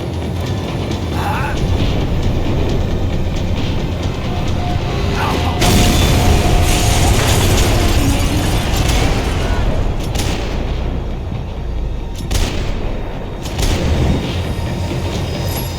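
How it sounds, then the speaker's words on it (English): Tram slowing down in the video game Max Payne 3, a loud, continuous rumbling rail noise with metallic clanks and ratcheting bursts, swelling around the middle and ending with scattered thuds. "The tram was slowing down, and I'd only just gotten on board"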